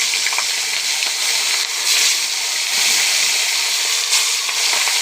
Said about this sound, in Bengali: কড়াইতে তেল দিয়ে দিয়েছি আমি মাটির চুলে রান্না করব আজকে তেল গরম হয়ে গেছে মাছগুলো আস্তে আস্তে দিয়ে দিলাম